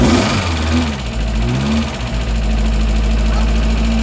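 An old Vauxhall Nova, uncovered after years in storage, runs loud and close with a steady engine drone and throttle blips that rise and fall early on, then settles into a constant even run.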